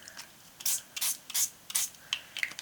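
Spray paint hisses over a stencil in a mixed-media art journal, several short close bursts separated by brief pauses, with no talking.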